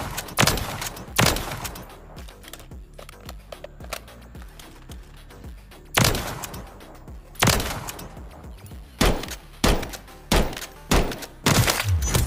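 Rapid lever-action BIOS-P rifle shots in Call of Duty, sharp loud cracks fired in quick bursts with brief pauses, some rounds grouped tightly near the end.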